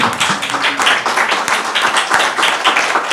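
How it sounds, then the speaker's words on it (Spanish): An audience at an environmental forum discussion claps in dense, lively applause, with individual claps audible in the mix and the level pulsing steadily throughout. "por favor, un aplauso"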